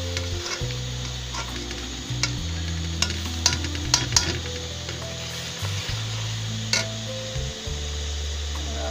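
A paste of tomato, onion and green chili sizzles and fries in a pan while being stirred, a steady close crackle broken by scraping strokes of the spoon, over a low background hum, with no talking.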